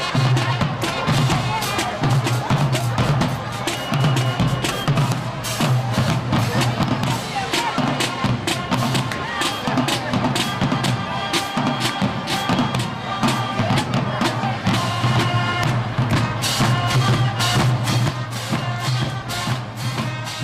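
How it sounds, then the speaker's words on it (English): Loud brass and drums of a high school marching band at a football game play continuously, with sharp percussive hits in a steady rhythm and crowd noise in the background. "That is the sound of the BC Rain Marching Red Raiders."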